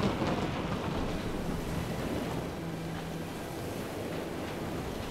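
Rushing surf and wind roar continuously, with a low rumble beneath, like a stormy sea heard up close.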